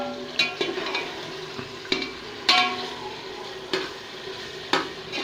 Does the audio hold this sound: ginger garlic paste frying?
yes